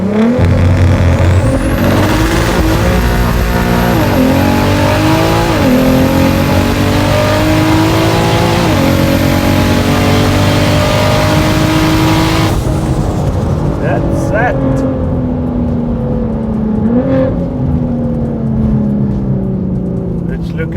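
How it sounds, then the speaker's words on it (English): A 1000hp VW Golf R32 with a VR6 engine and a 4-inch straight-through exhaust launches down a quarter-mile drag strip, screaming loud through repeated upshifts with rising revs, then easing off near the end. "The exhaust is a 4-inch straight through exhaust, so it's extremely loud"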